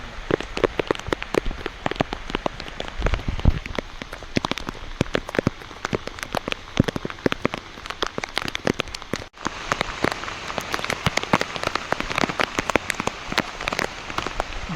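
Heavy rain pours down during a visit to a hill temple, with a dense, continuous patter of drops striking surfaces close by and no pause throughout.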